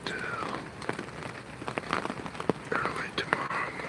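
Steady rain falling in a North Carolina rainstorm, a constant soft hiss with scattered sharper drips and taps on nearby surfaces, fairly close and even throughout.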